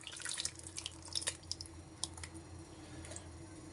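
A tomato-paste sauce is poured over chicken and potatoes in a baking tray, giving faint, close dripping and wet splashing in short irregular bursts over a quiet background.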